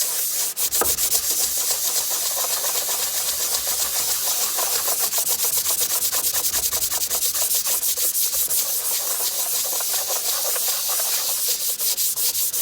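A sanding block rubs back and forth over cooled wax filler on a wooden surface, leveling it before shellac French polishing, a fast, even scratching rhythm heard close and loud for the whole stretch, with no voices.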